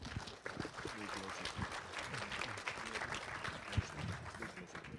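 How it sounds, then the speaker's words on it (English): Conference audience at a web engines hackfest applauding speakers: a dense round of clapping filling the room, with people talking and murmuring underneath it throughout. "let's give a huge round of applause to Luca and Andreu"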